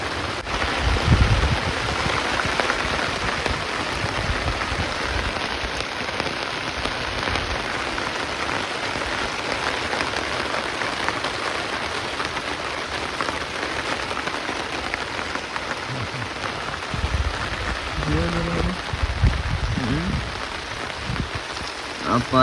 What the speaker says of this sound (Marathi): पाऊस लय वाढलाय मित्रांनो.